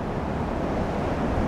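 Strong wind buffets the microphone outdoors on a sidewalk while someone walks pulling a suitcase, a steady loud broadband rush with no talk.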